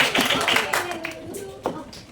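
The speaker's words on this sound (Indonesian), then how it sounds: "tepuk tangan untuk Rosidah dan Della" A classroom of students gives a short burst of clapping for two classmates, scattered, uneven hand claps that fade quickly, heard close and mixed with a voice speaking over them.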